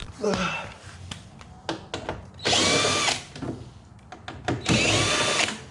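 Power tool, likely an impact driver or drill, backing out 7 mm bolts from a body panel on a C8 Corvette during exhaust removal, with two loud whirring bursts of a couple of seconds each among short clicks and handling noises, close by.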